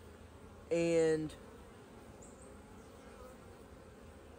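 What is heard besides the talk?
honey bees buzzing around a hive frame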